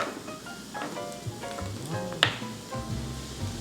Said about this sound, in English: Stir the seafood with a spoon until they're halfway thawed.